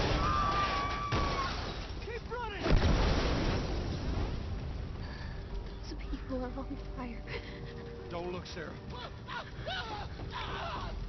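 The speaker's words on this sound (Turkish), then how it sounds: "Şimdi şurada bir patlama olacaktı galiba." Video game noise from The Last of Us with a single loud blast a few seconds in, followed by rumbling and clattering effects under ongoing speech.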